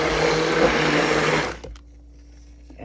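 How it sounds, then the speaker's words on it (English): A stick blender whirs loudly and steadily as it mixes pumpkin pie custard in a container, then cuts off abruptly after about a second and a half, leaving a quiet background with a few small clicks. "Hello, Mr. Stick Blender."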